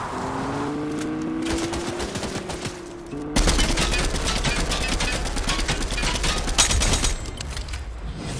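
An AK rifle fires in a Fortnite match, rapid bursts of automatic gunfire that grow into a loud, dense volley mid-way, with engine-like droning underneath.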